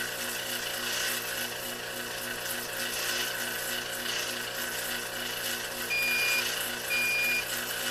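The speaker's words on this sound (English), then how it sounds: "When the low alarm threshold is met, both the audible and flashing indicators are activated." A SUPCO VG640D vacuum gauge's low-vacuum alarm beeps in short repeated pulses over a steady mechanical pump drone, the beeps sharp and evenly spaced toward the end.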